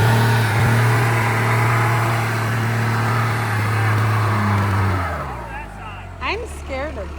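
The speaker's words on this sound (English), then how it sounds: "Never done a burnout in this truck, nor have I really even thought it could, but the road's wet" A first-generation Cummins truck attempting a burnout on a wet road: a loud, steady diesel drone that drops off near the end, followed by scattered rising squeal-like sweeps, with voices heard at the end.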